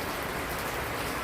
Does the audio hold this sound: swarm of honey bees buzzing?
no